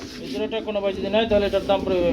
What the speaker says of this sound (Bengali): বন্ধুরা রেসার কবুতর দেখতে পাচ্ছেন